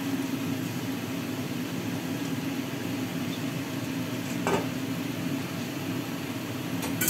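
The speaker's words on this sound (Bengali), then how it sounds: "এবার ইঁচড় যে ভাজা আছে ওটা দিয়ে দিলাম" Pieces of fried green jackfruit go into a hot pan and sizzle with a steady, even hiss, plus a single soft clink midway. No voices.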